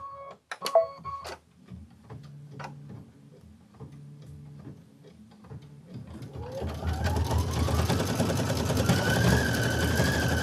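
An embroidery sewing machine starts up to stitch a satin stitch outline of whipped cream. Scattered clicks and beeps lead into a steady, close mechanical whirr of rapid stitching that builds and holds to the end.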